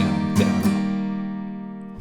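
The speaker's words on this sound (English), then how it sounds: "So that strumming pattern will sound like this." Acoustic guitar strums, two sharp attacks close together, followed by chords ringing out and slowly fading, played up close with no voice.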